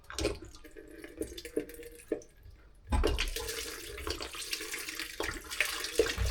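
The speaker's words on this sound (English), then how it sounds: "let's get the bowl under there, get the rest of the water out" Water drains from a Potterton Powermax 155x boiler into a bowl, a continuous splashing and trickling stream that grows louder and fuller halfway through, heard close and without talk.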